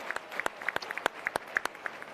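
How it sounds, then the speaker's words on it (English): A few people clap at a small business pitch competition, with sparse, distinct hand claps at an uneven rhythm, fairly close and moderately loud, with no crowd roar. "Let's give Brandon a round of applause"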